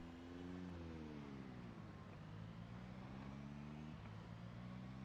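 Car engine in the video game Project Zomboid, a steady low droning hum with shifting harmonic tones, close and continuous throughout with no talk.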